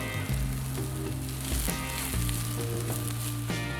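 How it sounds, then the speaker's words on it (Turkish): Red cabbage sautés in butter in a pan, a loud, steady sizzle close by with occasional stirring scrapes and knocks. "önceden doğradığımız kırmızı lahanaları kavuruyoruz."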